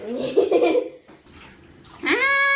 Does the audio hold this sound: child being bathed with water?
yes